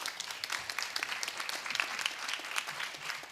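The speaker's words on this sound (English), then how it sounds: "Please a round of applause to them as well" Audience applause at the closing of a food systems pavilion event, a dense, fairly faint patter of many hands clapping steadily throughout.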